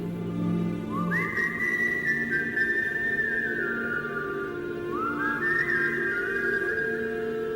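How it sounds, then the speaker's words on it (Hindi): Two long whistled notes echoing back, each rising then holding and gliding down, separated by a pause, sounding slightly distant over a low background hum. "ये सुन, मेरी सीटी कैसे पलट के कोई बजा रहा है"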